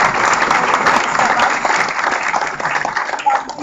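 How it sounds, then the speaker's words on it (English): Sustained applause from a conference audience thanking a panel after a business branding Q&A session, a dense steady wash of many hands clapping at close range, fading slightly toward the end. "another round of applause for the panel"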